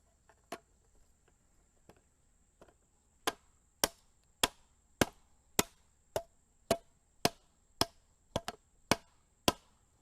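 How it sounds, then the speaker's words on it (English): Stacking stakes of a Banaue raised garden bed are hammered into the ground with about a dozen sharp, evenly spaced strikes. The strikes are close and loud, preceded by a few faint taps, with no talk. "flip all of the remaining stacking stakes over and hammer them into the ground"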